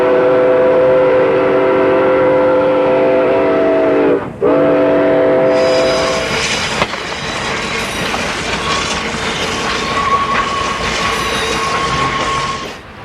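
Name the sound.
Yreka Western steam locomotive number 19 making up train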